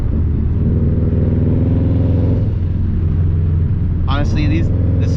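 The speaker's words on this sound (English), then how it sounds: "I just wanted to give you guys a nice point of view of how the car sounds" Steady, loud interior drone from a 2005 Subaru STI fitted with a COBB 20G turbo cruising on the road, the engine note shifting slightly midway, with a brief spoken remark near the end.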